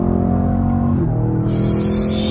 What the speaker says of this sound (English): that downshift sound too good